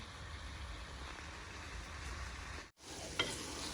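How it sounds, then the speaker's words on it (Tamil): Mixed intestine curry sautés in oil with a steady, fairly faint sizzle and a brief break before it resumes, plus a light clink of stirring. "இதை நல்லா நாங்கள் வந்து மிக்ஸ் பண்ணி அப்படியே எண்ணெயில் வதங்க விடுவோம்"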